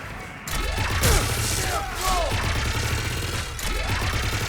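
Mass Effect 3 combat with steady rapid gunfire, crashing impacts and whooshing projectiles, loud and continuous throughout with no talk.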